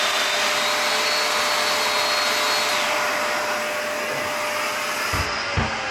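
A Festool DF500 domino joiner runs steadily and loudly with a dense whirring motor noise, then changes pitch near the end as it stops, closing with a couple of brief knocks.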